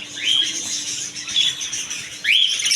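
Pet birds in a bird shop, including prince birds, give repeated sharp rising chirps and twitters over a busy background chatter of other birds.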